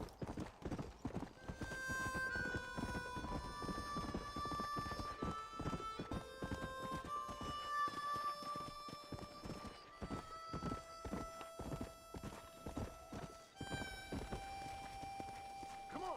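Horse hooves clip-clop in a steady walking rhythm in the video game Red Dead Redemption, with a game music score playing underneath.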